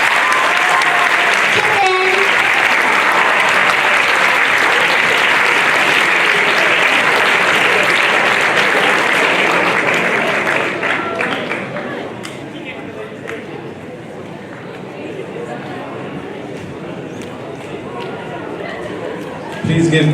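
Sustained audience applause rolls through a high school UAE National Day assembly at the American Community School of Abu Dhabi, loud and dense for ten seconds before thinning into scattered clapping and murmuring chatter.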